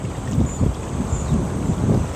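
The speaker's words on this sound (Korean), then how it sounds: "여기는 지금 바람이 세차게 불어서" Strong wind blows at a coastal fishing spot, a rough, gusty rumble buffeting the microphone in several surges, loud and close with a faint high whistle above it.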